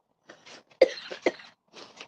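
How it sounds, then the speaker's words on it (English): A person with a lingering cough of about six weeks gives several short, dry coughs and throat-clearing bursts, close and alone in a quiet room. "I've had this cough for like I guess a month and a half now, and it's barely getting better."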